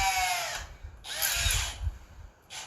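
A power drill whirring into 3/4 inch wood, loud and close, in two short bursts with a brief pause between and a quick third start at the end.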